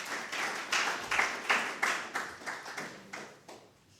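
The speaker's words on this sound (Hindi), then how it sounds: "एक दफ़े ज़रा तालियां आप लोग दोबारा" An audience at a Karachi Press Club memorial event for singers Balqis Khanum and Ishrat Jahan claps in a steady rhythmic beat, roughly three claps per second, gradually softening.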